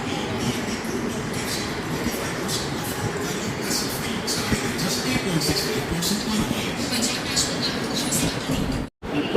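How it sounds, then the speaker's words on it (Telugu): A passenger train pulling out of Warangal station, with a continuous rolling rumble and rattling carriages heard from on board, and muffled voices in the background. "ఇక్కడ నుంచి స్టార్ట్ అయింది ట్రైన్ అయితే."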